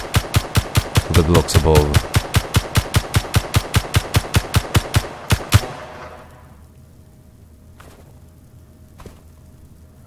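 Rapid machine gun fire in Space Engineers, a long string of evenly spaced loud bursts for several seconds that stops abruptly, leaving faint game ambience with a couple of soft distant thumps; a voice talks during the shooting.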